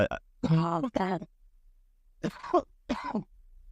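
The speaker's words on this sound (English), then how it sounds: "Sorry, I just coughed." Several short, harsh coughs from someone sick with a cold, in quick bursts close to the microphone, with a pause and then two more rough coughs.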